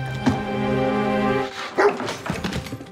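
A dog in a dystopian sci-fi series barks and yips in short bursts, close and loud, after a sustained tonal musical drone fades out.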